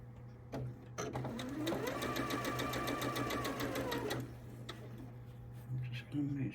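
A sewing machine runs a short backstitching pass on quilt seams, a close, even whir with fast ticking needle strokes lasting a few seconds before stopping, over a constant low hum.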